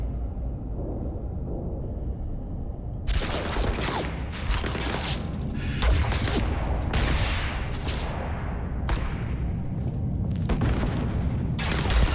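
A grenade blast in the Starfield video game, heard as a deep, loud boom with a long rumbling tail, followed by further heavy bursts and crackling impacts that sound like gunfire, all close and with no talking.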